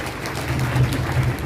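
A crowd at a Birsa Munda 150th birth anniversary rally in Chhota Udepur claps for a member of parliament's speech, a brief, even wash of many hands at moderate loudness with no voices.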